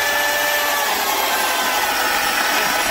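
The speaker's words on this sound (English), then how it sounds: "how easy it is to work this saw against the wood and how well it actually cuts" A Homelite 12-amp electric chainsaw with a 16-inch bar cutting through wood, a steady loud motor whine with dense buzzing that holds constant for the full span, no voices over it.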